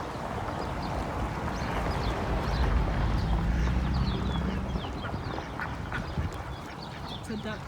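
A group of ducks in a flood-irrigated Arizona yard quacking and chattering close by, a dense busy mix of calls over splashing and rushing water that runs throughout.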